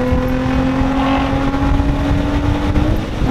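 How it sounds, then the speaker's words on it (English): A Toyota 86 with its muffler and first resonator removed drones loudly and steadily up close, a continuous raspy exhaust roar with a sustained low hum throughout. "The muffler's gone and the first resonator's gone."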